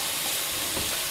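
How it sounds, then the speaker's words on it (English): Running water rinses Smith & Wesson M&P 9mm Shield pistol parts washed with dish soap, a steady, close broadband hiss and splash that holds evenly from start to finish. "when you rinse it, you give it a nice good rinse"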